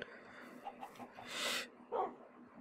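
Dogs bark in a video game, a few quiet yips and barks scattered through the clip and then a louder bark near the end, over soft background noise with no one talking.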